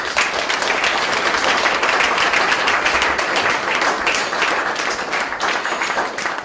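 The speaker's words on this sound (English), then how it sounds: "I just want everybody to give them a big round of applause" An audience at the Ken Saro Wiwa anniversary seminar at Maynooth University gives a big round of applause for the library and production staff, a steady, full wash of clapping that holds for several seconds and eases slightly near the end.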